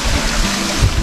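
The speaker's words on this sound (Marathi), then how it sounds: "पण तुम्हाला पाण्याचा आवाज येतोय?" Stream water flows near a nature trail at the Patgaon project in Kolhapur district, a loud, steady rushing that is close and unbroken, with no voices.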